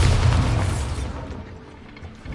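A Bombarda explosion spell in Hogwarts Legacy: one loud booming blast that rumbles and fades over about two seconds, with no talking over it.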